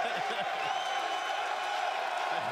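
Crowd noise from a live audience at the E3 Microsoft press conference, a steady broad wash of cheering and whooping that holds at even loudness through the whole stretch, with no talk over it.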